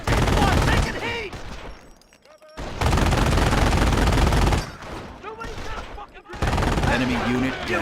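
Company of Heroes battle gunfire, loud dense bursts of machine-gun and rifle fire in several long volleys separated by short lulls, with in-game voices calling out over the shooting.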